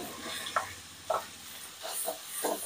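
Onions sauté in a pan with a constant soft sizzle, punctuated by several spaced scraping stirs of a spatula against the pan.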